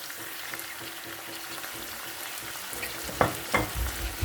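Onions sizzle steadily in a hot pan while frying for bhindi pyaz, and a couple of scraping stirs from a spoon come near the end.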